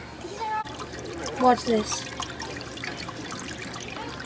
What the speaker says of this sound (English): So there's water running on it and you can write.